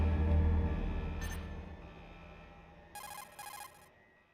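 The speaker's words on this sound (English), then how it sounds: "He just got a call on his phone." Codec phone ringing in the video game Metal Gear Solid, two short bright electronic ring bursts near the end after a fading low hum.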